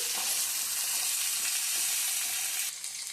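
Ivy gourd pieces and green chillies sizzle in hot oil, a loud, steady, close frying hiss that runs the whole time with no voices.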